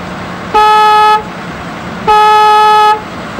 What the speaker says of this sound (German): Signalhorn.